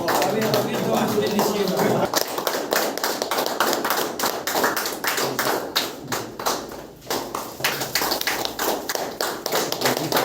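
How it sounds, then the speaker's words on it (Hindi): Audience applause at a felicitation programme for outgoing and incoming DTO officers in Itanagar, rapid close hand claps forming a steady rattling patter that picks up after a voice speaks briefly at the start. "तालियां बच्चे"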